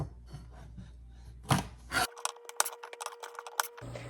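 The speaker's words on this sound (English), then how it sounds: "in the meantime you can cut the ends off your green beans" Trimming the ends off green beans in a kitchen produces soft rubbing and scraping, then a run of sharp, close knife clicks and snips, spaced irregularly against a quiet background.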